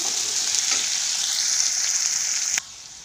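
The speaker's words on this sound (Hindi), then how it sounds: "मैं पहले आलू को थोड़ी सी हल्का सा फ्राई करने के बाद ही फ्रेश बीन को ऐड करूँगी" Sliced potatoes fry in hot oil with a loud, steady, close sizzle that cuts off sharply near the end. No voices.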